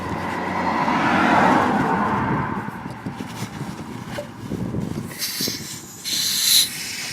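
A Hyper Tough 0.5 gallon inflator pushes air through a tire chuck into a tire, a steady hissing rush that swells and fades, then sharper bursts of high hiss near the end, with no talk.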